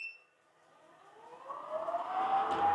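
Beko VRR60314VW robot vacuum cleaner powering on after a brief start beep, its motor whine rising steadily in pitch and loudness as the brushes spin up, heard close without talk.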